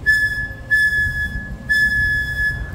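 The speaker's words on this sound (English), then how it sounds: "I'm going to hit my whistle kind of like this." A Conch tour train driver in Key West sounds a whistle in three sharp, shrill blasts, each under a second long with short gaps between, loud and near over a low rumbling background.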